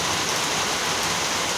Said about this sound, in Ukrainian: і як дощ періщив